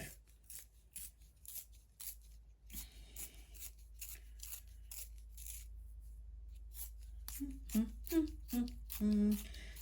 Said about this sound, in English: good thing I had that pencil sharpener ready to go